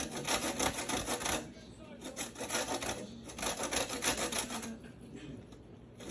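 A knife scraping the white pith off a lemon, giving a repeated rough rasping in short strokes, close up and moderately loud, with pauses between passes and no talking.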